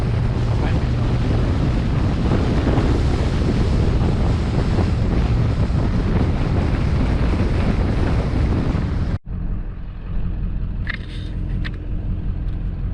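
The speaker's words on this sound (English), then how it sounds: "Windy as can be out here, so I'm not going to have very good audio once again." Heavy wind at Lake Mead buffets the microphone with a constant loud roar, then cuts out abruptly, leaving a quieter breezy background with faint traffic.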